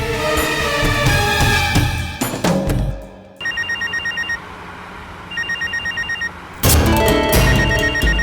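A loud burst of music cuts out, then a phone rings in two repeated trilling bursts before the music returns loudly.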